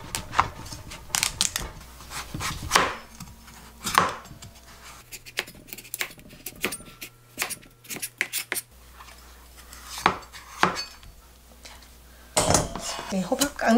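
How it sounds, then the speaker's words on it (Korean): Knife cutting through an old pumpkin around the stem for pumpkin kimchi, giving a series of crisp chopping and scraping knocks with clattering kitchenware, close and fairly loud, spread over the whole stretch. "이렇게 꼭지를 피해서 이렇게 잘라야 되거든요."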